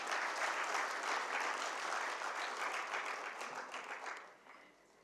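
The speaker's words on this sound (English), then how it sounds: "Big round of applause, please." A conference audience at the Asia Economic Dialogue 2025 gives a thick, even round of applause for a panelist being honored. It holds steady for about four seconds before tapering quickly into near silence.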